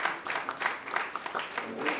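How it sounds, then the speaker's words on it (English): An audience at a community roast event applauds with sustained, dense clapping from a roomful of people, steady and moderately loud for the full stretch. "Let's give her another round of applause."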